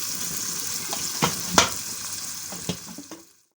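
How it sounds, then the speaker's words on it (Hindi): Chicken sizzling and frying in a pan for a moong dal chicken dish, a steady close hiss with a few sharper stirring scrapes, before the sound cuts out near the end. "तो अच्छे तरीके से हम इसको भून लेते हैं"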